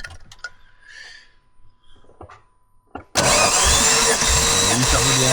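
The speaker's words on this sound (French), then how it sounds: "Ah, il marche le moteur, il est bon." An Alfa Romeo 155 DTM racing engine bursts into life after a few quiet clicks and voices, then roars loudly and steadily at high idle with a rough, buzzy tone.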